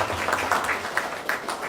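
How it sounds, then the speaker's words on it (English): Audience applause greeting the President at a State House dinner for hinterland students, a steady moderate patter of many hands filling the short stretch without pause. "Let's give him a big round of applause."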